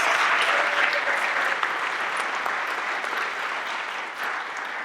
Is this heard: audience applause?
yes